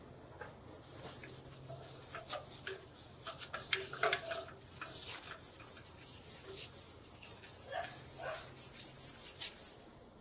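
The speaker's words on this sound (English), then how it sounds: "now I'm going to put some sanding sealer on" Close, soft rubbing and brushing of sanding sealer onto a sanded pine bowl with merbau inlay, in repeated strokes with short scratchy bursts, quiet and steady.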